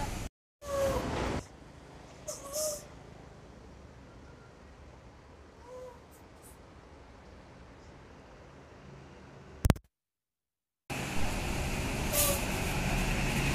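A Telaga Lestari bus pulling out of a terminal lets off sharp bursts of compressed-air hiss from its air brakes, one short burst near the start and a longer one near the end, with a low, quiet engine rumble between.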